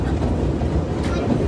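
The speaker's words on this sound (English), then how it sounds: "So we are on the train ride right now." Steady low rumble and rattle inside a moving passenger train, a constant loud drone with faint rolling clatter throughout.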